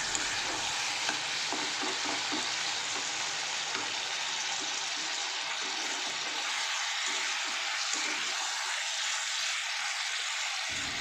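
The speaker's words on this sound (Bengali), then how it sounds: "চিকেনটা যতক্ষণ না কাঁচা জলগুলো মরছে ততক্ষণ সুন্দরভাবে চিকেনটাকে কষিয়ে নেবেন বা ফ্রাই করে নেবেন" Chicken pieces are stir-fried in spices with a continuous sizzling hiss and repeated stirring scrapes in the pan. The low rumble drops away partway through, leaving the bright frying sound alone.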